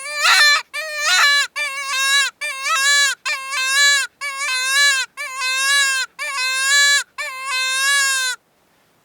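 A Dakota Yote Badlander mouth-blown predator call imitates a jackrabbit in distress, giving about nine loud, wavering, nasal squalls in quick succession with short gaps between them, and no one speaking.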